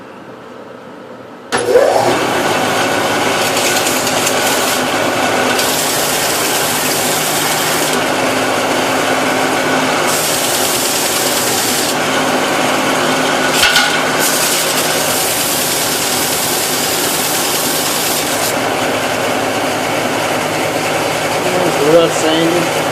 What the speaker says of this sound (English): So I'm going to rough sand them on the belt